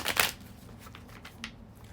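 Tarot cards being shuffled by hand give a short, sharp riffle at the start, followed by a few lighter taps and slides of the deck in a quiet room.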